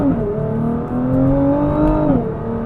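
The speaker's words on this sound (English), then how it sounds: "we're just gonna take it on a blast" A Nissan R35 GTR in manual mode accelerates hard from close range, its engine note climbing steadily in pitch, then dropping sharply at a gear change before pulling again.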